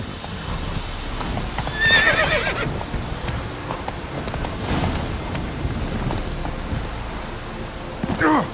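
Horse hooves clip-clop steadily through The Witcher 3 with a clear whinny near the start and faint rain-like hiss underneath, the hoofbeats continuing close and moderately loud throughout.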